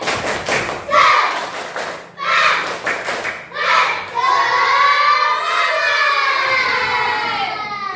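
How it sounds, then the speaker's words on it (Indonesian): An Indonesian school class performs a rhythmic chant-and-clap routine. Short bursts of group claps in patterned beats are followed by children loudly chanting together. "kita tepuk-tepuk dulu ya sebelum melakukan pembelajaran untuk menambah semangat kita pada pagi hari ini"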